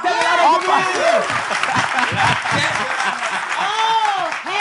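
Applause from an audience at a French event, a dense steady clatter with lively voices, cheers and chatter layered over it, remaining close and full from start to finish.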